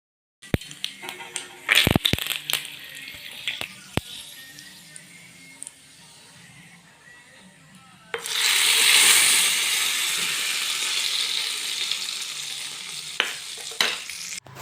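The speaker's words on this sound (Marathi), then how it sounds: "आता फोडणी देऊन घेते" Scattered clinks of a tempering pan, then a sudden loud burst of sizzling as spices hit hot oil, hissing steadily after.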